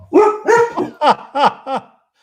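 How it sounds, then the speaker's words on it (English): A dog barks several times in quick succession, close and loud, the barks rising into yelping whines. "sorry about the dogs chiming in"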